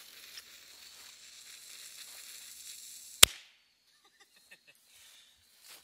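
A firecracker fuse stuck in a jack-o'-lantern hisses and sizzles faintly for a few seconds, then a single sharp, loud bang, followed by quiet with a couple of small crackles.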